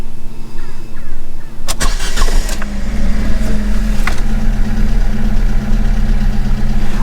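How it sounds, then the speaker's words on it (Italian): A car engine cranks and catches after an oil change with engine flush treatment, then settles into a steady, loud, close idle with a low continuous hum. "ora accenderò il motore"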